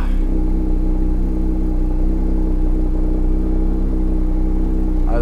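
A Porsche 911 GT3 992 engine runs as a loud, steady, close mechanical drone that holds evenly throughout.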